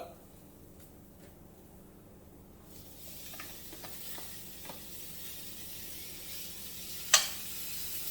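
Spinach searing in coconut oil gives a soft, continuous sizzle that swells after a few seconds, with light clatter and one sharp clink near the end, heard close with no talk.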